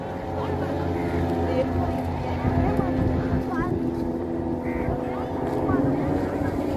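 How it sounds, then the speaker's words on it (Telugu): A speedboat on the water at Paradise Beach, Pondicherry, its engine holding a steady droning hum for the whole stretch, with voices talking over it. "ఇది స్పీడ్ బోట్."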